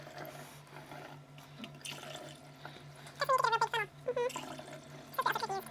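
Liquid pours through a funnel into a jug while making mead at home in a kitchen, a gurgling, trickling stream that grows louder and bubblier toward the end, with faint background hum.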